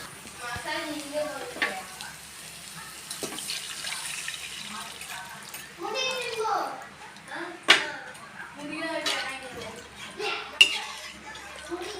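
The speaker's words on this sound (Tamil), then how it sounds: "இப்போ நம்ம தண்ணி ஊற்ற போகிறோம்" Water poured into a hot pan of sautéed ingredients for macaroni hisses and sizzles in bursts, with pan clatter and a voice talking over it.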